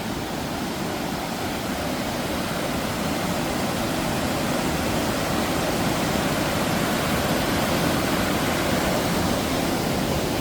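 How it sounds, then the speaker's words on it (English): Water gushing and flowing beneath Devil's Bridge in Wales, a dense, steady broadband roar like a waterfall or fast stream, loud and continuous throughout with no voices over it. "So that's where the water is gushing to. And this is where it's gushing from."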